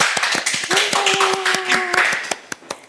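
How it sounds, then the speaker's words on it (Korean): A school audience applauding to welcome a returning graduate, a burst of quick, close claps in a steady patter that fades near the end, with a brief sung or spoken tone heard over the clapping. "여러분 모두 큰 박수로 맞이해주세요"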